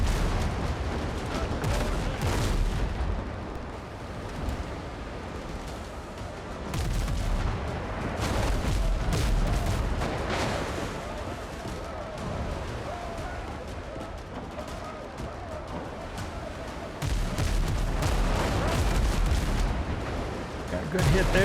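Ship cannons fire broadsides in the sailing game Windrose, a long run of repeated booming blasts and rumbling explosions, loud and close, with a voice speaking intermittently underneath.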